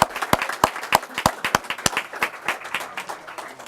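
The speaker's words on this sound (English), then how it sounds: "please, another round of applause for these two great speakers" Audience applause at a Lee County Republican Party dinner for two guest speakers: a fairly close burst of sharp, distinct claps that keeps going unevenly for several seconds, with no talk over it.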